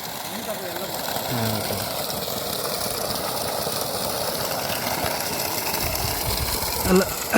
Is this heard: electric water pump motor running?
yes